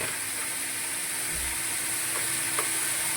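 Chopped tomatoes stirred in a hot pan for Marathi-style shev tomato curry, a steady close sizzle with a faint scrape of the spoon near the middle, alone without talk.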